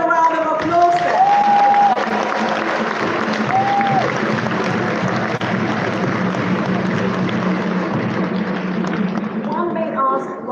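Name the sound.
audience applause for the president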